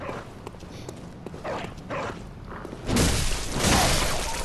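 A dog barks in the video game Bloodborne, a few soft yips and woofs early on, then louder, busier in-game noise that muffles the later barks.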